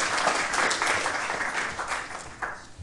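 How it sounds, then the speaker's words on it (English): A group in a lecture clapping for a participant named Ian, a short patter of applause that fades toward the end, fairly close and without talk. "Round of applause for Ian, please."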